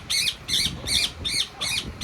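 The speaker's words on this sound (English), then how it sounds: "that's my Indian ringneck" An Indian ringneck parakeet gives a series of six loud, harsh squawks, evenly spaced about every third of a second, close and alone with no talking.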